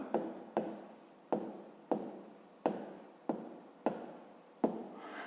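Pen strokes on paper as a math exercise for a fifth-grade class is written out, about eight quick scratchy strokes in a steady rhythm, close and fairly quiet.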